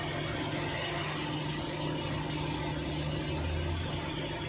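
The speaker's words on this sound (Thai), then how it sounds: "เราลองฟังเสียงเครื่องกันสักเล็กน้อยนะครับ" A 2016 Toyota Vios 1.5E engine idles with a steady, low rumbling hum and faint vibration, recorded close and evenly throughout, with no voices.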